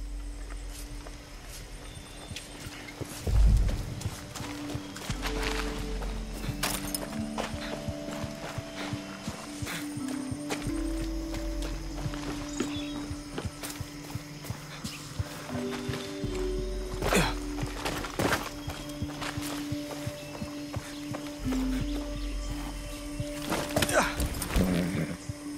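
Horse hooves in Far Cry 6, a steady clip-clop of a ridden horse moving along at a close, even pace, with low engine-like hum and occasional thuds, plus a brief whinny near the start.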